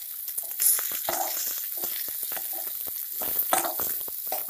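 Vermicelli roasting in a pan for savory vermicelli upma, a steady close sizzle of frying with repeated scraping stir strokes and light crackles throughout, no talk.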